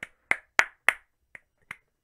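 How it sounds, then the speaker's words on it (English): A few people clap sparsely at the E3 2019 gaming event: six sharp, isolated claps sound over about two seconds, unevenly spaced and fading toward the end, with near silence between them. "even the five people that started clapping didn't sound that hyped"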